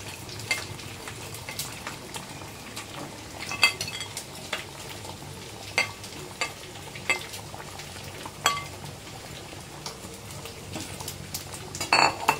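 Chitol fish muitha dumplings dropped into a simmering Bengali curry, a steady bubbling sizzle punctuated by scattered soft plops and clinks of a spoon against the pot.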